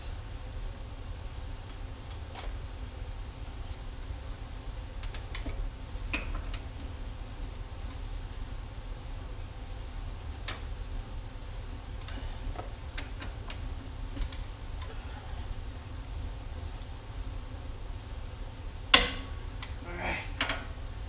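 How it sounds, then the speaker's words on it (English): A large torque wrench set to 325 tightens the axle on a Porsche GT3: faint ratcheting ticks and creaks through a quiet garage, then one sharper click near the end. "Got the ridiculously massive torque wrench set at 325, so let's go ahead and get this torqued."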